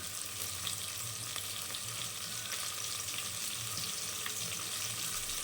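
Green chilies frying in a hot pan while cooking mutton pulao, giving a steady, close sizzle that runs evenly throughout with no one talking.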